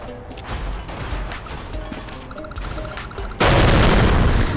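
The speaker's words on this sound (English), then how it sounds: "It's so much fun just blowing everything up." Explosions in the video game Goat Simulator, with fireworks in use. Scattered crashes and booms give way to a sudden loud, sustained blast near the end that fills the sound.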